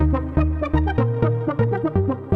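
Melodic synth line from an Elektron Digitone with the filter cutoff turned down, giving a muffled, darker tone; a steady sequence of short notes repeats in an even rhythm, upfront and alone.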